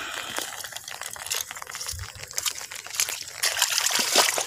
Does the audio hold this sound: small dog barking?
no